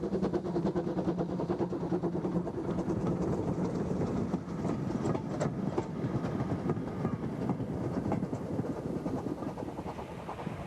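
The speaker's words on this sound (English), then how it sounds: "the saddle tank double heads with Gothenburg as they take the train northwards" A steam train double-headed by a saddle tank and the locomotive Gothenburg passes close, a continuous loud rumble with rhythmic chuffing and wheel clatter that stays steady throughout.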